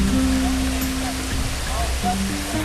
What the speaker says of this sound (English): Rain in the middle of Kenya.